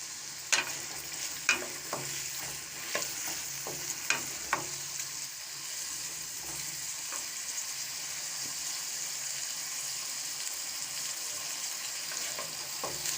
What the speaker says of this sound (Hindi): आलूओं को हम ऑयल में हल्का सा फ्राई कर लेंगे।